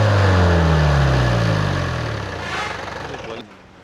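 Mahindra Thar off-road vehicle engine running with a loud, deep, tractor-like rumble that fades and dies away toward the end, as if switched off, heard close up.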